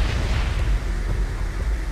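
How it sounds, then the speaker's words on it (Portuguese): An explosion in the Dredd vs. Zombies mobile game on Windows Phone, set off by a shot into barrels, gives a loud, sustained low rumbling boom that rolls on without a break. "Só esse tiro explodiu a metade dos zumbis que tem aqui"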